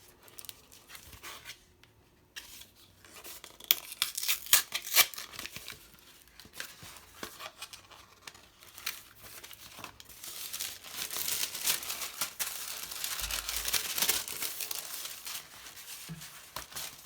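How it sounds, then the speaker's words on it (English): Paper being torn into pieces for a seaside-themed journal, with crinkling and ripping bursts that come and go, louder toward the end, close up with no talking. "I literally wanted to just tear off pieces and just use Mod Podge"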